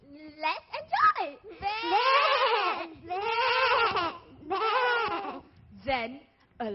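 Goats bleat in several long, wavering, nasal calls one after another, loud and close, mixed with a few shorter cries.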